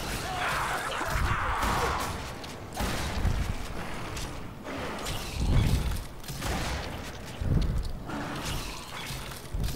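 Gunfire and impacts in the video game The Darkness II come as several heavy bursts and crashes spaced a couple of seconds apart, loud and close, with mechanical clatter between them.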